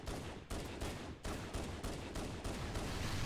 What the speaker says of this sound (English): See if I can snipe the elite at the end of the hall.